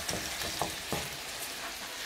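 Minced meat frying in a pan, a steady sizzle with a few louder crackling bursts and stirring scrapes, close and alone with no talk.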